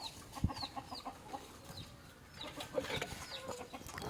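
Hens clucking at a farmyard feeding spot with bran laid out, several short clucks and calls scattered across the clip, one brief sharp knock near the start, moderate level and fairly close.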